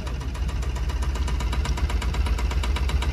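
A Tata Ace Mega XL BS4 pickup with a pickup problem runs roughly after starting, its engine giving a steady, close metallic knocking tick over a low, sputtering rumble, with no voices.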